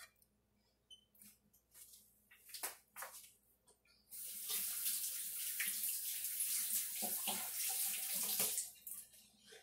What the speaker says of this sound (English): Then I wash my hands real quick.